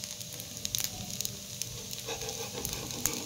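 A fasting dosa sizzles in ghee on a pan over a medium flame, a close, steady frying hiss with scattered small pops and crackles. No one speaks.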